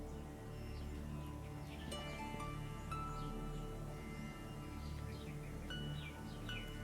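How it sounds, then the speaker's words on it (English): Faint birdsong drifts in from a distance, scattered chirps and short calls over a soft, steady background hum. "Hear birds singing from the trees."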